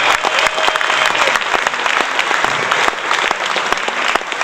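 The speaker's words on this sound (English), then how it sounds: "So give yourself a round of applause" Dense crowd applause from a large audience at an Elvis Presley memorial event, steady and loud throughout with many overlapping claps and no talk over it.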